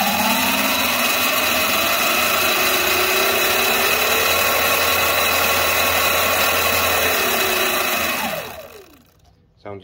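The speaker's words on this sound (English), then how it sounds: "Now I'm going to turn on the bike and accelerate slowly." Electric motor of a Sur-Ron dirt bike with a power pedal kit, spinning up slowly and holding a loud, steady whine with rising tones before winding down near the end.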